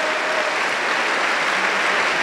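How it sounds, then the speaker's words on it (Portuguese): Congregation applauding during a Catholic priest's sermon, a dense, steady wash of clapping at moderate loudness, unbroken for the whole stretch. "Então aplauda o seu Deus"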